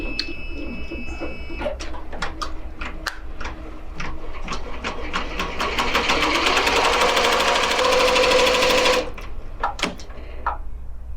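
An embroidery machine runs a tack-down stitch on a giant patch, giving a loud, close, steady mechanical chatter of fast repeated needle strokes that builds, then stops with a few isolated clicks.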